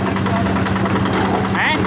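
A Yanmar diesel engine drives a concrete mixer drum, giving a loud, close, continuous rumble with a fast, steady knocking pulse and mechanical rattle throughout.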